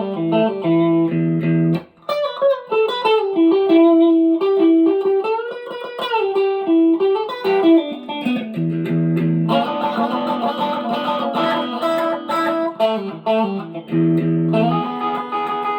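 Electric guitar plays a solo, with sustained bent notes, melodic runs and a fuller chordal passage near the end, loud and alone.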